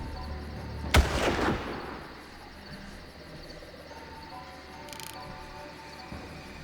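A single loud rifle shot in the Far Cry video game, a sharp close crack with a short rumbling tail, followed by quiet ambience and a faint later click.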